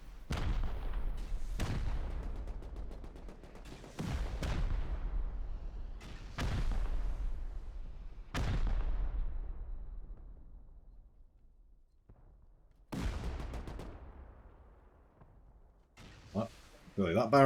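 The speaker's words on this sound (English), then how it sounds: "Now heavy rocket barrage coming in." Heavy rocket barrage striking a base in the video game Rust, a series of booming blasts spaced a couple of seconds apart, each decaying into rumble, ending in a rapid flurry of impacts.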